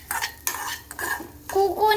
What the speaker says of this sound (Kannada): ತೆಂಗಿನಕಾಯಿ ತುರಿ ಹಾಕ್ತಾಯಿದ್ದೀನಿ. ಚೆನ್ನಾಗಿ ಫ್ರೈ ಮಾಡಬೇಕು.